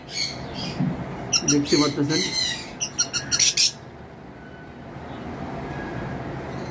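Lutino-mutation pet breeding birds in an aviary squawk and chirp in quick loud bursts, then fall quiet, while someone talks over and between the calls.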